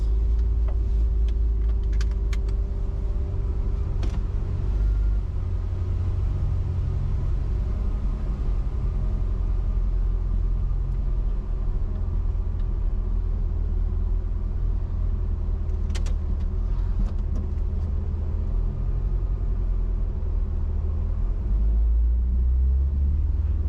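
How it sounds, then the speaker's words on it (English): A 79 Series ute fitted with an LS2 engine and 6L80e gearbox on its first test drive: steady, loud engine rumble and road noise throughout from inside the cab, with a few faint clicks and rattles. "I'm just going to take it for its first test drive, see what happens."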